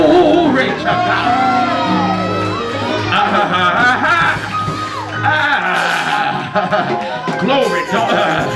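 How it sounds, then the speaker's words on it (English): A church congregation shouts and whoops glory to God, many loud overlapping voices yelling and calling out together in an excited, sustained roar, with a preacher's voice mixed in. "Clap your hands and open your mouth and shout glory to God"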